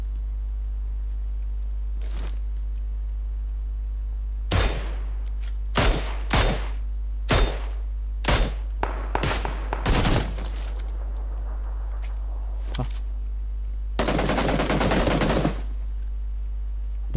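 Gunfire rings out in the PUBG Lite video game as loud, close single shots and short bursts, ending in a sustained rapid volley, set against a steady low hum.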